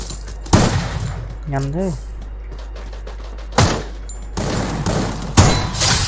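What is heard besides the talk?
gunfire in the video game Free Fire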